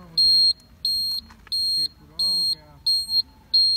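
A loud electronic beep from an electric scooter's siren repeats in a regular on-off pattern, six high-pitched tones with brief gaps, while someone talks quietly between them.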